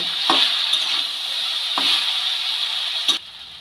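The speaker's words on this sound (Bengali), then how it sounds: "খুব ভালো করে তেলের মধ্যে চালতাগুলো দিয়ে নেড়ে চেড়ে নেব" Boiled elephant apple pieces are stirred in hot oil for a pickle, a steady close sizzle broken by three sharp scrapes of a spoon against the pan before the frying noise drops away near the end.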